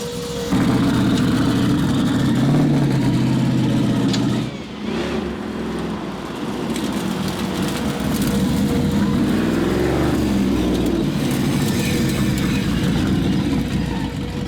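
A quad-turbo LS V8 swapped into an Audi Quattro rumbles loudly and steadily while driving, with a brief dip in engine note partway through before it pulls again, heard from close range.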